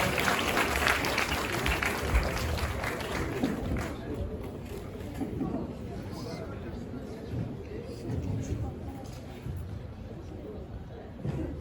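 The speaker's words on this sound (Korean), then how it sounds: "다시 한번 뜨거운 박수로 감사해 주시기 바랍니다" Applause from a chapel congregation after a clarinet ensemble, strong clapping at first that thins and fades over several seconds, with scattered voices and crowd murmur underneath.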